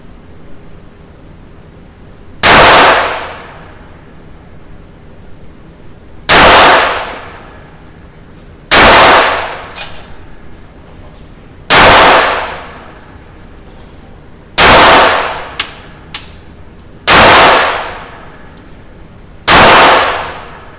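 Seven sharp pistol shots from a Glock 20 fitted with Talon Grips, fired one at a time at steady intervals of about two to three seconds, each loud crack trailing off into a short outdoor decay.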